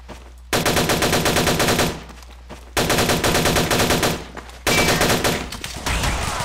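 Rapid automatic gunfire from a first-person shooter video game, played as a mouse-aimed PC game, comes in three loud sustained bursts of about one to two seconds, each separated by a short lull with a low background hum.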